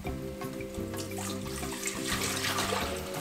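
Tap water runs steadily into a cooking pot being filled for spaghetti, a continuous close splashing gush with a rising tone as the pot fills.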